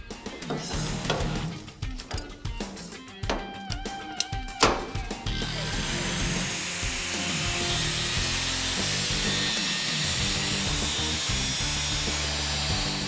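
Rough sawing and scraping on metal for several seconds as the drip rail is cut off an Oldsmobile car roof, then a steady continuous grinding roar from a power tool that runs on without pause.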